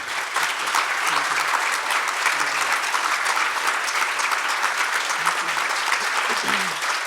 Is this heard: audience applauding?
yes